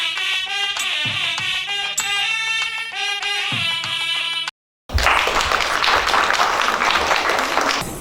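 A ceremony audience breaks into loud, sustained applause after a brief gap, following a bright stretch of music with ringing tones; the clapping is dense and continuous.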